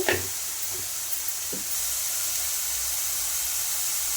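Tomato and brinjal fry in a pan with a steady, close hiss of sizzling oil, a few soft stirring knocks near the start, then an unbroken even sizzle with no voices.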